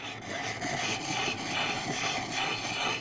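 A knife being sharpened on a stone in a steady circular motion, continuous close gritty scraping with soft repeating pulses and no talking.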